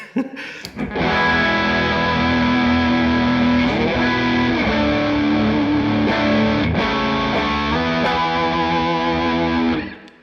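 A heavily distorted electric guitar through a Victory V30 The Countess or V40 The Duchess amp plays a sustained, thick lead line with bends and note changes, ringing out loudly before cutting off.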